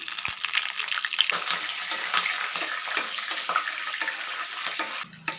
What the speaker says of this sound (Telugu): ఇప్పుడు మనం ఇదిగొండి పచ్చిమిర్చి వేసేద్దాము